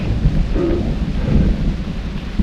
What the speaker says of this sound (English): The lightning and thunder sounds further away now.